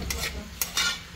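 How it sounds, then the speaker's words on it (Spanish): Shredded chicken stew being sautéed in a pan, a few quick scraping stirs with a soft sizzle underneath, close and brief. "Ya vamos a sofreír ahora"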